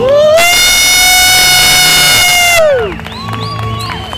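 An audience at a stage hypnosis comedy show cheers and makes noise, led by one long, loud, sustained whoop that slides away into scattered shouts and crowd hubbub.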